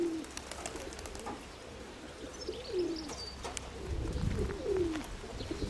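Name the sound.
pigeons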